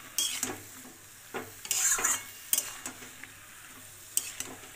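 A spoon scrapes and clinks against a pan while cauliflower curry is mixed, several sharp metallic knocks and stirring strokes spaced irregularly over a faint simmering sizzle.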